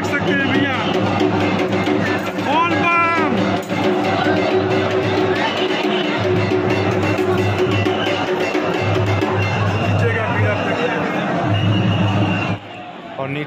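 A dense crowd of pilgrims queuing at Babadham temple in Deoghar fills the air with continuous loud babble and chatter, with a steady low hum of fans or air blowers beneath and occasional nearby voices standing out.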